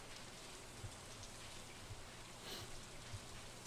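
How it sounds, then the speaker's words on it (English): Steady rain in stormy fall weather from the farming game Stardew Valley, a soft continuous hiss of falling drops, quiet and even throughout with no voices. "Stormy fall weather."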